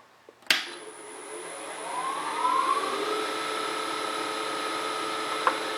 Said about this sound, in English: the lathe is up to 1800